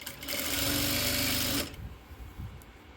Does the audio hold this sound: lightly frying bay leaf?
no